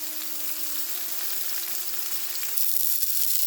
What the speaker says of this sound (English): check them to see if they are nicely seared